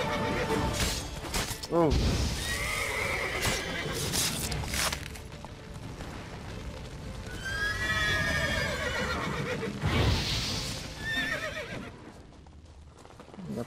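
A horse in Witcher 3 Blood and Wine whinnies several times in wavering bursts over clip-clopping hooves. Someone talks throughout and exclaims once.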